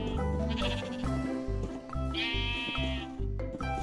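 Sheep bleat in Minecraft over a looping rhythmic background track, one clear wavering bleat standing out mid-clip among fainter game sounds.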